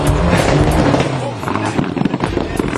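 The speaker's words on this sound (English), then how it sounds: "You can hear there popping and banging with the anti-lag." Mitsubishi Lancer rally car with a Group N engine, its anti-lag system firing loud pops and bangs over a roaring engine, close and continuous through the stretch of rally stage.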